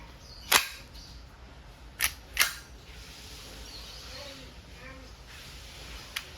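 An Umarex Glock 17 Gen 3 airgun loaded with steel balls fires a sharp, loud pop near the start, then two quicker snaps a moment later, with a faint click at the end and quiet background in between.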